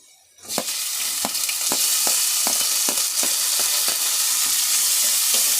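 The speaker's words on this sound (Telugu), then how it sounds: "టమాటో కొంచెం బాగా ఫ్రై కావాలా." Tomatoes and onions frying in a pan: a loud, dense sizzle swells up after a quiet start and holds steady, with regular clicks and scrapes of stirring roughly every half second.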